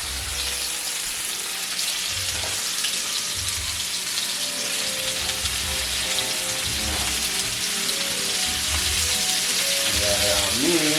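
Onions and rosemary sizzling in a hot pan while making T-bone steak, a loud continuous crackling fry with a low rhythmic rumble beneath, no voices heard.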